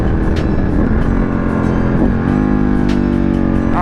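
Motorcycle engine recorded from a helmet-mounted camera while riding around a corner, a loud steady drone with the pitch dipping and then climbing as the rider leans through the turn and accelerates out.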